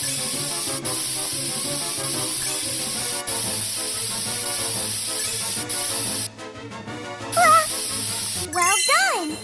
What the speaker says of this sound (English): Use the spray to remove all the concrete.